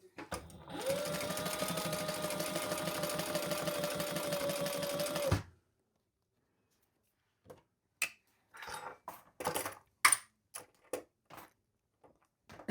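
A sewing machine stitches the seam of a bum bag in one steady, close run lasting several seconds, followed by silence and then scattered clicks and handling noises.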